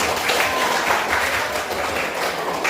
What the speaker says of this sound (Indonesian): Silakan tepuk tangan buat aku